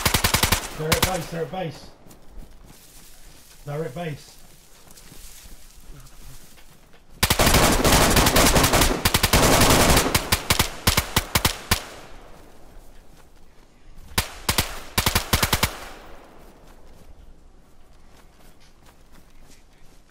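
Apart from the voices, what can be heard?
gunfire in DayZ video game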